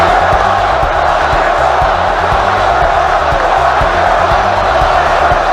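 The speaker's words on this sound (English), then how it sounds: "It was a campaign promise that made crowds roar." A large crowd roars and cheers at a Trump campaign rally, a dense, continuous wash of voices with a steady low rhythmic thumping beneath, loud and sustained throughout.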